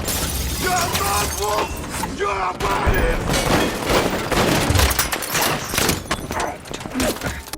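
Rapid bursts of gunfire and shattering impacts from a movie shootout between fixers and Croatian gunmen around a car, loud and dense throughout with shouted voices mixed in.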